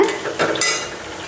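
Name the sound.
roasting grated coconut in a pan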